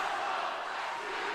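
A hockey arena crowd at an ice hockey game between the Newcastle Northstars and Brisbane Lightning roars in a dense, continuous wall of noise with no break.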